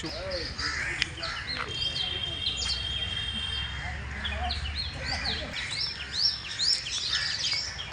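Crows caw repeatedly while smaller birds chirp in the background of an outdoor scene, with faint voices underneath.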